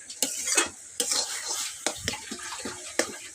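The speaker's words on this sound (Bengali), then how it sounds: "গ্রেট করা লাউ পুরো দিয়ে দিলাম। এখন আমি ভাজবো, ভালো মতন ভাজবো।" Grated bottle gourd fries in a pan for paratha, with steady sizzling broken by repeated scraping and clinking stirs of a utensil against the pan.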